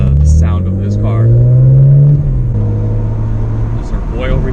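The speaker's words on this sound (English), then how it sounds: "So that's what really contributes to the sound of this car." BMW 128i exhaust with a higher-flow muffler and no resonator, a close, loud, low droning rumble that climbs in pitch during a rev, then settles back to a steady, throaty idle-like hum.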